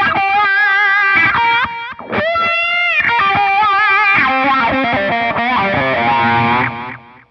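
Electric guitar played through a Line 6 Helix with delay, a distorted tone ringing out in loud phrases whose repeating notes sustain and trail off at the end.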